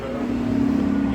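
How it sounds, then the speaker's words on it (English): A car engine revs in a road tunnel, a steady droning roar that holds and swells slightly, close and loud, with the enclosed space adding a booming fullness. "Usually, a lot of people rev their engine here"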